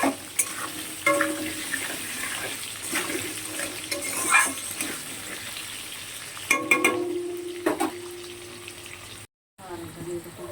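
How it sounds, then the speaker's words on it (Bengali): Potatoes sizzle in hot oil with a little turmeric and salt, a steady frying crackle interrupted by stirring scrapes and clatter, close and fairly loud, with a brief cut near the end. "একটু নুন দিয়ে আলুটা ভেজে নিচ্ছি"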